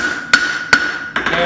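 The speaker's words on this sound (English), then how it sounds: "So this is mild steel, so hitting it black is not going to hurt it" A hammer strikes mild steel being forged into a Bowie knife handguard, with three sharp metallic blows ringing out in an even rhythm over a steady high tone, loud and close.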